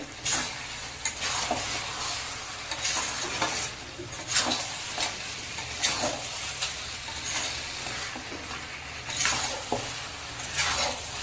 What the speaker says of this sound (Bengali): তো এবার ভালো করে নাড়তে হবে।